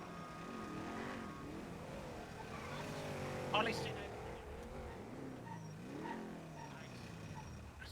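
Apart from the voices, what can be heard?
car engine revving in GTA V NoPixel video game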